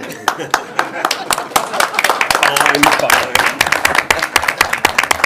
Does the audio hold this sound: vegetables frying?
no